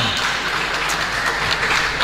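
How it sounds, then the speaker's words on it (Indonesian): Steady applause from a crowd fills the room, a dense wash of clapping at even volume for the whole stretch. "Tepuk tangan dong"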